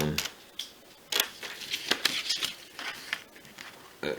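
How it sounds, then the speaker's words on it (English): Scissors snip through material while an I-beam shape is cut out in a classroom, giving a run of short, crisp clicks and slicing strokes at close range, irregularly spaced with brief pauses between cuts. "so I'm going to use scissors"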